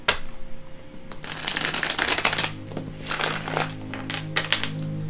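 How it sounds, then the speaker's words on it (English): Up close, a tarot deck is shuffled in several bursts of riffling card flutter with brief pauses between, over a faint steady background tone. "I'm going to shuffle it one more time."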